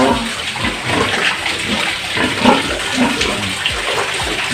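Water gushes and overflows in a pig pen on a farm in Nasugbu, Batangas, a loud, steady, close rushing wash that continues without a break and has no talking over it.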